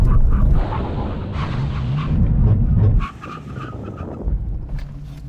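Performance cars, a Nissan Skyline R34 GT-R, a Mustang and a BMW M3, braking to an emergency stop from 70 mph, loud broadband engine and tyre roar that drops off sharply partway through, leaving quieter rumble and scattered knocks.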